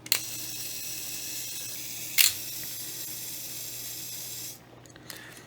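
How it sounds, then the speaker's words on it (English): Nikon FG-20 film camera with shutter set to M90: a sharp shutter release snap over a steady hiss, followed seconds later by a quieter mechanical click as the background noise drops away. "whenever you're ready to take a photo, you just press the shutter release"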